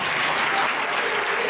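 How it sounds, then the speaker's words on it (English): Loud, dense clapping from an audience at a book launch event, sustained and even across the short stretch, with possible faint voices mixed in. "Let's clap for you and your delegation."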